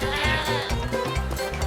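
A goat bleats loudly and close by, a wavering, throaty cry with repeated pulses running through the whole short moment, heard alone.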